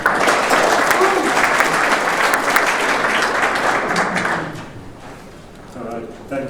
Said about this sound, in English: Welcome on stage with a round of applause.